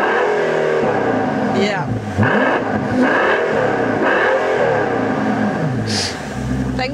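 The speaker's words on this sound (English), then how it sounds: "which provides wonderful V12 music to your ears." Mercedes-Benz S65 AMG with its V12 engine revving hard and accelerating, a loud, close snarl that rises and falls in several surges, with a voice speaking briefly over it.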